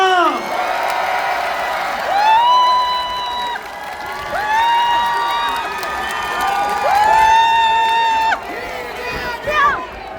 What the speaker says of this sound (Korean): 우리 기다렸던 이재명 후보님의 연설을 박수로 청하겠습니다